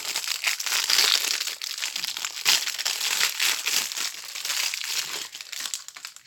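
Paper wrapping crumpled by hand while unpacking equipment: close, irregular crinkling and crushing bursts that rise and fall continuously for several seconds.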